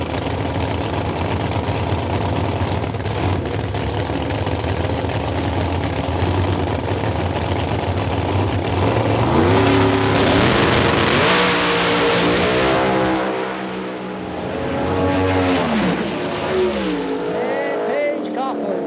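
Drag race cars make a pass at Virginia Motorsports Park during an Outlaws event, a loud sustained engine roar that swells and then fades toward the end, with a commentator talking over it.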